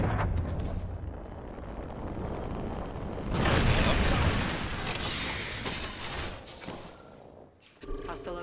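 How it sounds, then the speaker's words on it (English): In the Apex Legends video game, a Lifeline care package drops in with a swelling, roaring whoosh and a heavy rumbling impact. Mechanical clanks and creaks follow amid the surrounding game noise. "I'm calling a lifeline package in"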